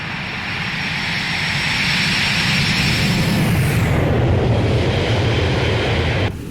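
A Boeing 727 flyby in a flight simulator game gives a loud, steady jet roar that swells and holds for several seconds before cutting off abruptly, with no voices.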